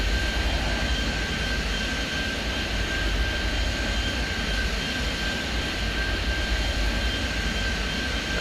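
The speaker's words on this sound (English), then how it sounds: "Concorde landing on 24 left, an MD-80 landing on 24 right." Jet airliners roar steadily on approach in a video game, a Concorde and an MD-80 landing on parallel runways. The drone is continuous and fairly loud, with a thin steady whine riding above the broad engine rumble and no voices.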